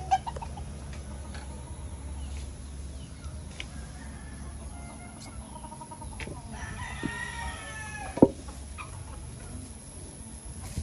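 Chickens in a coop on a small farm in the Philippines, with faint clucking and a short crow midway over quiet outdoor background, plus a few knocks.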